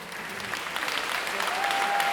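An audience at a charity concert applauds for a performer with dense, sustained clapping that builds slightly and stays even, with a faint tone sustained underneath near the end.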